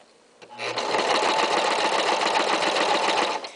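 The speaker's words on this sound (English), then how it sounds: "All I want to focus on is making sure that both fabrics as they go through the needle are touching this inner edge so I get my 1/4 inch seam." A sewing machine stitches two fabrics along a curve, a quick even run of needle clatter starting after a short pause and holding steady for about three seconds before stopping.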